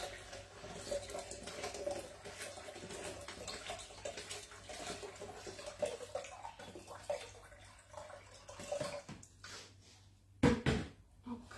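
Water poured into a Thermomix mixing bowl, a faint trickling and splashing that runs fairly steadily, then a louder burst of splashing near the end, with a few small knocks and clatters around it.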